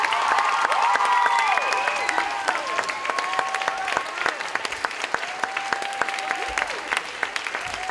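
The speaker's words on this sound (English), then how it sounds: "For a round of applause." A school audience applauds a middle school yearbook class, sustained clapping filling the room with a few whoops and whistles riding over the top.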